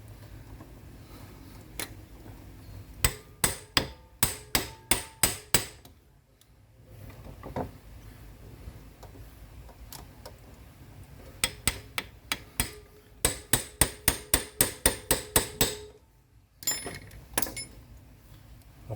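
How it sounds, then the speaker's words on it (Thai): Sharp metallic taps come in quick bursts as a screwdriver knocks a part into a Toyota 1AZ/2AZ starter motor, each a rapid series of close, loud knocks, with short pauses between the bursts. "แล้วก็ใช้ตัว ไขควงตอกเหมือนเดิมนะครับ ตอกล็อกเข้าไปนะครับ"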